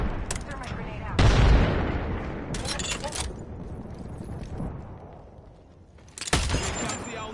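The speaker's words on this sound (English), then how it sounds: "Deploy me knuckle cluster. Throw my grenade out." A knuckle cluster grenade goes off in Apex Legends, with a loud burst of crackling explosions and a rumbling tail, then another sharp blast after a short pause, while a player talks over the action.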